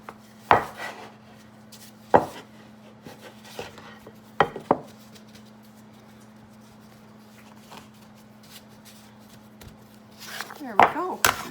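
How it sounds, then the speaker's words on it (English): A bench knife chops through rolled scone dough onto a work surface, a few sharp separate knocks spaced seconds apart and then a quick cluster of taps at the end, over a steady low hum. "Use your bench knife again."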